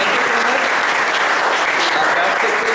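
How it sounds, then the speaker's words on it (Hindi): Loud, dense applause from a chapel audience at a morning service, honouring the bus in-charges, a steady unbroken wash of many hands clapping close by throughout. "आइए इन सबके लिए तालियां बजा दें।"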